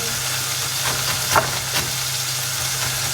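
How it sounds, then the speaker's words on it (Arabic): Garlic frying in a pan with canned tomatoes gives a steady close sizzle and hiss. One or two faint clicks of stirring come through, with no talking. "توم مع الطماطيش مصبرة قليهم قبل ومن بعد زيد طماطيش حب"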